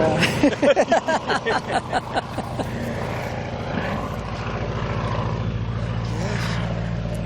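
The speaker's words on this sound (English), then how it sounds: "I can say now I flew the BT-13," A BT-13 trainer's radial engine turns over with a rapid, uneven loud chuffing that settles into a steady, throbbing propeller drone, close and dominant throughout.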